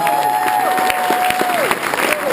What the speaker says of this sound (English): Give a big round of applause to Chris Horner and the rest of his teammates.